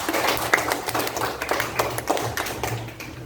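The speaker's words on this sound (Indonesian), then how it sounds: "tepuk tangan buat kita semuanya." A classroom of students applauds together, a dense, steady burst of many hands clapping at close range that continues for a few seconds and fades slightly at the end.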